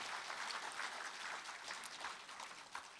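Steady crowd applause at a party leader's inaugural speech, a dense wash of many hands clapping that carries evenly through the whole stretch with no voices on top.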